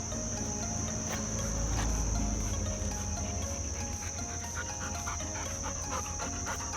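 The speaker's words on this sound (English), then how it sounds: "Here comes the dog." A dog on a morning walk pants in quick, rhythmic breaths near the listener. Crickets chirp steadily outdoors behind it, and an occasional low rumble passes underneath.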